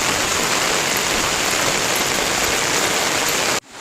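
Steady, dense rain falls and patters on surfaces, a loud continuous wash that cuts off abruptly near the end.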